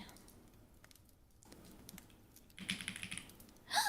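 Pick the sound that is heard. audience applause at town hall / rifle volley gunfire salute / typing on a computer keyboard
typing on a computer keyboard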